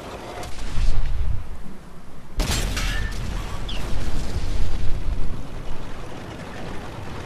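A tank cannon firing in World of Tanks, a sharp loud boom with a rolling rumble that lingers under steady mechanical engine noise and battlefield din.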